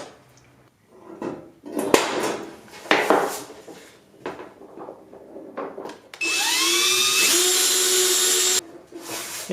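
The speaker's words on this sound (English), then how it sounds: "using the center punch seemed to actually make it a little bit better" A center punch is tapped into aircraft sheet metal for a Sonex elevator, making a run of sharp, close metallic knocks and clatter. A steady motorized whir follows for a few seconds, then more light taps.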